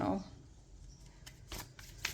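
Tarot cards being shuffled by hand, brief crisp papery riffles and snaps close by, with a voice speaking at the start.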